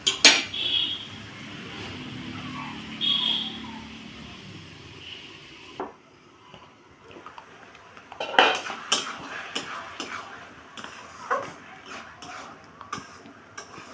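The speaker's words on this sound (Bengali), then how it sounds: "এবার আমি একটু ঢাকা দিয়ে দেব, গ্যাসের ভলিউমটা কমিয়ে দেব।" A lid set onto a cooking pot of bottle gourd with mung dal gives metallic clinks and clatter of pot and cutlery, with scattered knocks later and a dog's faint whimpers in the background.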